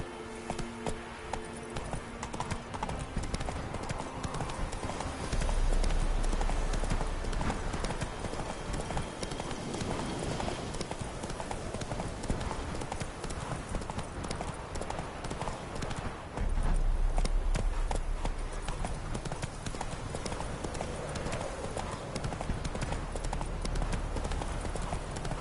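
Roach, Geralt's horse in The Witcher 3, trots along with steady rhythmic clip-clop hoofbeats, close and continuous for the whole stretch, over a soft ambient game soundscape.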